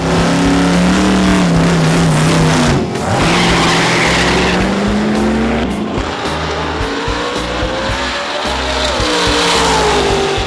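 Loud drag race cars roar at Memphis International Raceway, their engines revving and rising in pitch as tires squeal and skid, filling the whole stretch with close, continuous motor noise.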